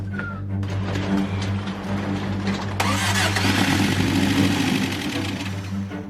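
A turbocharged Subaru EA82T engine cranks and catches, then settles into a loud, steady, high idle. The sound is close and continuous, with no speech.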